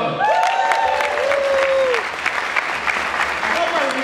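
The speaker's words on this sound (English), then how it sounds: "Round of applause for" A Comic Con crowd applauds steadily throughout, a dense wash of clapping with a voice briefly speaking over it.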